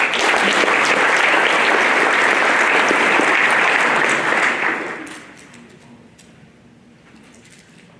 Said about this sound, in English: I'll have a quick round of applause for Alejandro